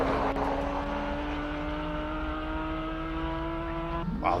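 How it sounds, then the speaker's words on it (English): A Porsche 997 GT3 Cup race car at a hillclimb, its engine holding a loud, sustained high-revving note with a clear pitch, rising sharply at the very end as it accelerates, with no voices. "Wow, that Porsche sounds incredible"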